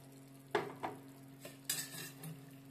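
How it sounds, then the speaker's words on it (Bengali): Fried potato pieces drop into a tangy tomato and yogurt gravy, then a spoon stirs them in with a few soft scrapes and knocks against the pan, close and brief, over a faint sizzle. "এবার গ্রেভির মধ্যে অ্যাড করব ভেজে রাখা আলুটা"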